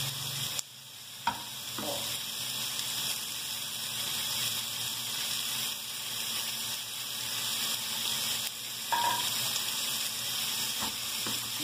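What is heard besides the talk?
potatoes frying in a pan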